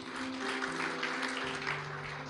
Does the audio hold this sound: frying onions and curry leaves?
no